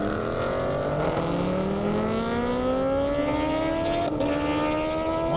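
A Toyota Corolla accelerates down an airstrip, its engine note climbing steadily through the gears with a brief shift dip, loud and continuous at a middle distance.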